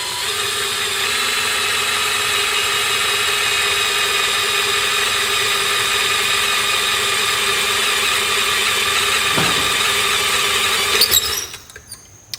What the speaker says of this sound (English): See if I can get this to not spin while I'm drilling it.